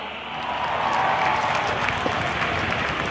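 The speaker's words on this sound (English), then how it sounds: "can I hear a huge round of applause?" A large outdoor crowd at an air show on Chennai's Marina beach applauds and cheers in a broad, sustained roar that swells after a brief start and holds steady, heard from a distance.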